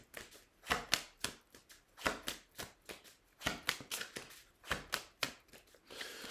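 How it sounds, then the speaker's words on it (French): A deck of tarot cards shuffled by hand, a quick run of crisp riffling flutters and slaps in uneven bursts, close and clear with no talking. "il faut mélanger le jeu, on va voir si la carte revient"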